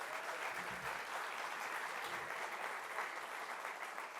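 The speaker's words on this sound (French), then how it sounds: "je vous propose un très court applaudissement pour ma petite équipe méritante" A conference crowd gives brief applause for the small organising team, an even, continuous wash of clapping heard at moderate distance throughout.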